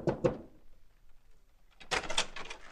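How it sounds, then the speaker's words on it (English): Radio drama sound effect of a door: two sharp knocks at the start, a pause, then a louder clatter of the door being opened, heard alone and fairly close. "Knock on the door, Dave."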